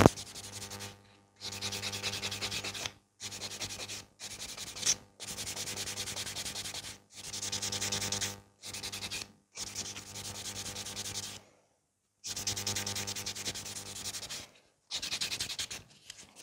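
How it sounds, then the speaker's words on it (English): Buffing acrylic coffin nails with a file, in bursts of rapid scratchy rubbing strokes lasting one to two seconds, split by short pauses, close and steady. "Buffing them nice."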